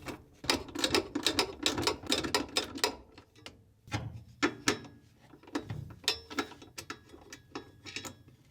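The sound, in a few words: 10mm socket ratchet removing bolts on Samsung washer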